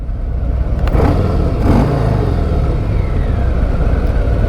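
A 2024 Harley-Davidson Fat Boy 114 motorcycle on the road, its engine producing a loud, steady low rumble with a brief rise around the middle, heard up close and without speech.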